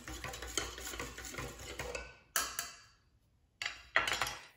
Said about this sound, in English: you either using a dough whisk or a spoon, you're gonna wanna incorporate these 3 items